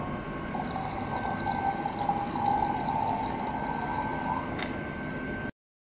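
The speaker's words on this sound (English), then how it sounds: "Now bottle is filled with fresh distilled water." Distilled water runs into a pycnometer bottle during a specific gravity test on bituminous materials, a steady close trickle and pour that stops abruptly near the end.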